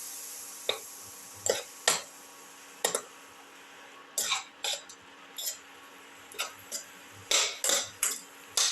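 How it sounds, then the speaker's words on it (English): A chicken and tomato mixture with ginger, salt and water being sautéed in a pan, heard as a string of sharp, close metallic clinks and scrapes of a utensil against the pan, spaced irregularly over quiet background. "keep on sauteing"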